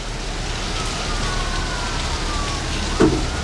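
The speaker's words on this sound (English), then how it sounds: "Look at that rain." Steady rain falls outside in a constant, even hiss of drops on surfaces, with one brief dull knock partway through.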